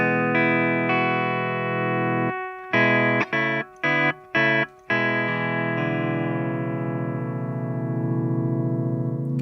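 Pedal steel guitar played dry straight into a Roland amplifier, sustained notes with a few sharp chopped stabs in the middle, then a long ringing chord fading out, alone with no talk.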